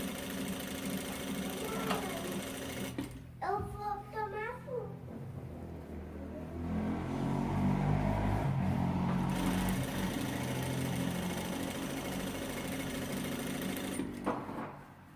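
A sewing machine stitches the seam of a handmade fabric bag in long steady whirring runs, close and loud, with a short pause and clicks of handling between stretches.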